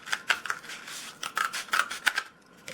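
Scissors snip through a paper roll in a quick series of sharp, crisp cuts, close and fairly quiet, with short pauses between strokes and no talking.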